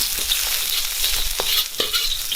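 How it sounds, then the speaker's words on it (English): Sliced ginger stir-fried in hot oil for a beef and shallot stir-fry, giving a steady close sizzle with several brief scraping stir strokes along the way and no voices. "we want to stir fry that until we start to smell the fragrance"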